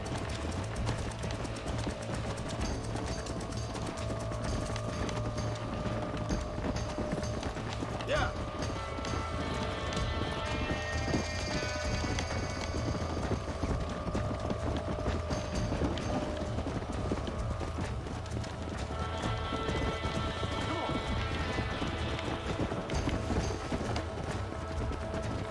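Rapid clip-clop of a horse galloping in Red Dead Redemption runs steadily throughout, layered with game music and a voice talking over it.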